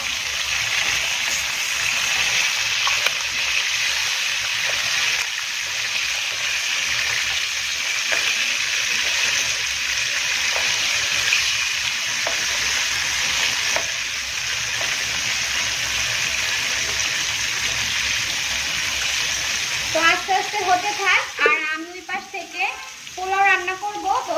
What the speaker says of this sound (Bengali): তো আলুগুলো দেখতেই পাচ্ছেন হালকা ফ্রাই হয়ে গিয়েছে